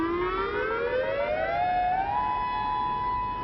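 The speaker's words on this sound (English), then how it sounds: "When the warning sirens sound" A rising hurricane warning siren wail climbs steadily in pitch and then holds a steady high tone, loud and continuous, with no voices.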